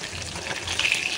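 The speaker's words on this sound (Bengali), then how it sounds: "তো দুইটা সাইডই লাল লাল করে ভেজে নেব।" Fish frying in a pan for a light potato and pointed gourd curry, a faint continuous sizzle and hiss with no talking.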